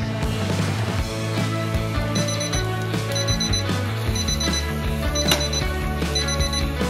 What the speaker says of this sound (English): I set my heat thermometer to 165, so it's going to alert whenever the internal temperature of my Beyond Burger reaches a 165